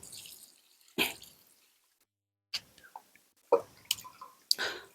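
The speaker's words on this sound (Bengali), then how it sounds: "এবার জল দিয়ে দেবো" Water is poured over freshly planted gladiolus and tuberose bulbs in soil, heard as a few short, faint splashes and drips separated by quiet pauses.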